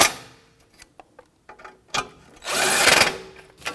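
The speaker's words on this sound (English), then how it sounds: "Now with our 17mm socket, we're going to snug them up." A ratchet with a 17mm socket tightens bracket bolts on a 2007-2017 Jeep Patriot 2.4L, giving close, irregular clicking strokes that end in a longer, louder rasping run, with no talking.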